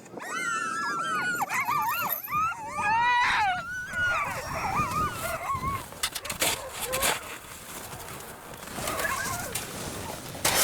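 Sled dogs on the ice at an expedition camp in the Canadian Arctic yelp, whine and howl loudly in a rising, wavering chorus, then settle into scattered barks under clattering and distant voices.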